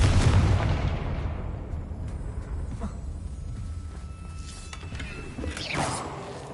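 The Confringo blasting spell in Hogwarts Legacy lets off a deep booming explosion at the start that fades into a rumbling tail, followed by faint crackles and a smaller burst near the end.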